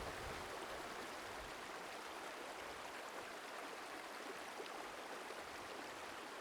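A mountain beck, Oxendale Beck, rushes steadily over massive boulders in a fellside riverbed, a constant broadband water roar heard close and unbroken with no talk.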